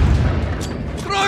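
A loud booming grenade explosion in Modern Warfare III, a deep rumbling blast with gunfire cracks around it and a voice calling out briefly.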